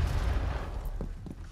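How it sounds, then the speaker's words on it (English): A grenade blast in a video game rolls out as a deep, heavy rumbling boom that fills the low end and slowly decays, with a few faint crackles and thuds trailing after it. "Oh, that's a grenade."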